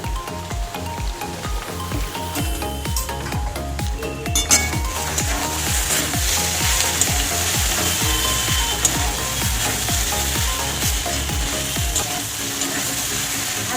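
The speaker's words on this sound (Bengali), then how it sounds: "ওই জন্য একটু আলুটা ভালো করে আগে ভেজে দিতে হয়" Potatoes frying in hot oil before okra is added, with steady sizzling and repeated scraping and stirring of a spatula against the pan, loud and close throughout.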